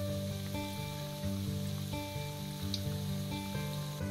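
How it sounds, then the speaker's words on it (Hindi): Bread potato rolls fry in hot oil over a medium flame, giving a continuous crackling sizzle under a low, steady hum, with no one talking. "इसे हम एक साइड का थोड़ा सा फ्राई होने देंगे उसके बाद पलटेंगे।"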